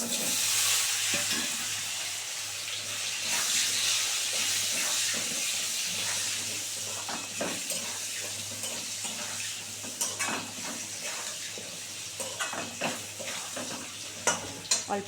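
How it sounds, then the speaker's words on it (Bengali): Potatoes frying in oil with dried red chilli and bay leaf, a continuous hissing sizzle with steam that gives way to irregular stirring scrapes and clinks of utensil on pan. "আলুটা সুন্দর করে ভেজে নেবো"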